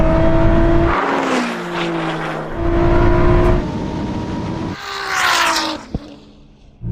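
A Ferrari SF90 and a 1000 hp Nissan GTR drag race, loud engines climbing in pitch through several gear shifts with brief drops between, ending in a fading run and a sharp click.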